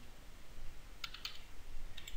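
Short bursts of computer keyboard typing while entering code, a few quick clustered keystrokes heard faintly and alone against a quiet background.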